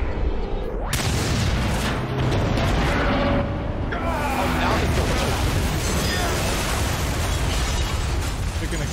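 An explosion in the horror video game Until Dawn erupts as a loud broadband blast about a second in, followed by a sustained roaring rumble and debris noise that lasts several seconds.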